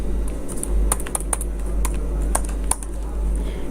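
Keys on a computer keyboard are pressed while entering bills in billing software, giving a quick, irregular run of close clicks over a low steady hum, with no one talking.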